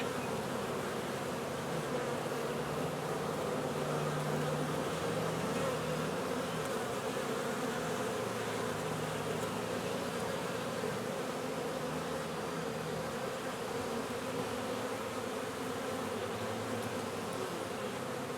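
Dense swarm of honeybees buzzing steadily and loudly, a continuous droning hum with no pauses and no voices.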